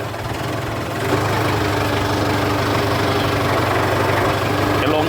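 Kubota M7040DT tractor engine running steadily and loudly close by, a continuous low diesel rumble with a slight rise as the gear is shifted.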